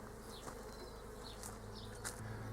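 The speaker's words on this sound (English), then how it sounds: "you can probably see they're very calm, these bees" Calm honeybees buzz around an open hive outdoors, a steady low drone with individual bees passing close by now and then.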